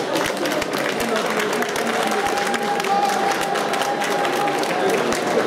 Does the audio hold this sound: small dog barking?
no